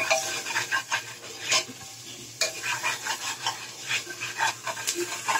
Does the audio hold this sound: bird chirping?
no